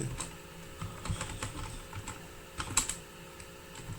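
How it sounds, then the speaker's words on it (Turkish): Letters typed on a computer keyboard at a Linux terminal, a run of quick, close key clicks at an uneven pace with no talking. "Şimdi buna da sadece harf yazayım. A, B, C"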